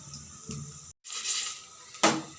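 Faint scattered crackles and light taps from seeds dry roasting in a pan, a few sharper pops standing out against a quiet background.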